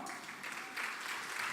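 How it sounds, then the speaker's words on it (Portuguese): A church congregation applauds during an evening sermon, a dense, even wash of many hands clapping that swells slightly partway through. "Você pode aplaudir ao Senhor?"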